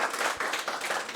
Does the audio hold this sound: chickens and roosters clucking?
no